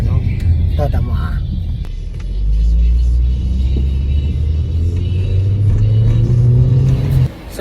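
A Mazda 3 engine on a test drive, a steady low rumble from inside the car that swells as it accelerates and holds through the clip, with people talking over it.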